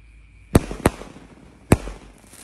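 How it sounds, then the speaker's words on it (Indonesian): A Roman candle firework launching at night gives three sharp, loud booms, the first two in quick succession and the third about a second later, with faint crackle between them. "Pelontar triple boom. Siap meluncur."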